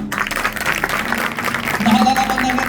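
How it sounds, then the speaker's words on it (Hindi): Church congregation at a sermon clapping together, a dense continuous patter of many hands close by, with a voice speaking over it. "कोना तालियां मारो जी सारे"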